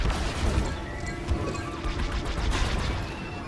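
Starfighter blaster fire and crashing impacts as turrets are destroyed in Star Wars Squadrons, a loud, dense run of blasts and booms overlapping for a few seconds.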